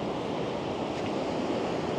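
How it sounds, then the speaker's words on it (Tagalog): Large ocean waves breaking on Lamane Beach, a dense continuous roar of surf with wind, heard up close and filling the whole stretch without any voices. "Lalaki ng alon."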